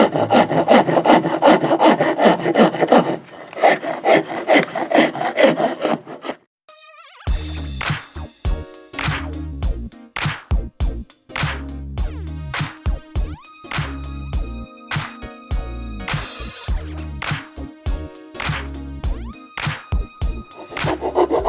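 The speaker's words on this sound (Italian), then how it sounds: "Con questa raspa vado a perfezionare il taglio fatto per renderlo più" A hand rasp files the rough cut end of a wooden beam, loud coarse rhythmic scraping strokes in quick repeated bursts with short pauses between them, close and unaccompanied by talk.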